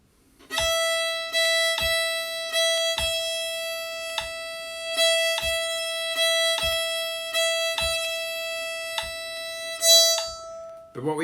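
Bowed string instrument, likely a fiddle, plays a tune in a dotted rhythm, each note clearly attacked in a steady, lilting pattern, close and fairly loud, alone.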